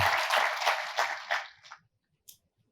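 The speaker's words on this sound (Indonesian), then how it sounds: "Tepuk tangan bagi Tuhan." A church congregation applauds in a dense burst of clapping that swells in a few waves, then fades out over about two seconds, leaving near silence with one last stray clap.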